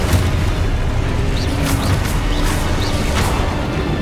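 Confringo blasting spells go off in Hogwarts Legacy, a dense rumbling roar of fiery blasts with a few whooshing bursts layered on top, loud and continuous, no talk.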